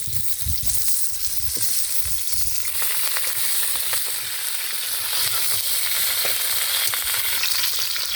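Cauliflower pieces fry in oil at a Bangladeshi village cooking spot, a constant, dense, close sizzle with a few low knocks early on and no talking.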